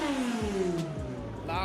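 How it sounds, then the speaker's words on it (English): A loud car engine at a drag racing event and car show, its falling harmonic whine sweeping down steadily as the revs drop over under two seconds, with crowd and background noise throughout. "Loud cars here."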